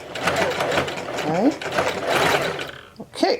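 A sewing machine runs steadily as it stitches a center zipper, its fast rhythmic clatter close and continuous under a person's brief spoken remarks, stopping near the end.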